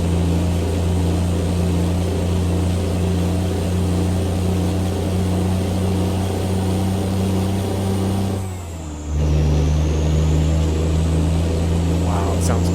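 A Cummins diesel truck engine in American Truck Simulator drones with a deep steady rumble, dips briefly as gears shift near the end, then climbs again with a rising whine, loud and continuous.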